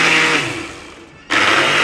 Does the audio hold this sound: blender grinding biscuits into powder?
yes